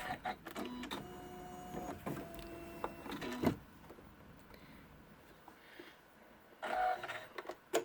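An embroidery machine stitching around a DS screen outline in an in-the-hoop zippered pouch project, with rapid mechanical stitching bursts, pauses and whirs, close and fairly quiet, no talking.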